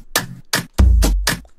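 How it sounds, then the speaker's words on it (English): Programmed drum groove of layered toms and claps in a pop beat: sharp claps alternating with a deep booming tom that rings out, punchy and close with no talking. "And the full drums should go like this."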